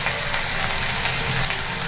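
Onions fry in a pan, giving a steady, dense sizzling hiss with faint crackles throughout.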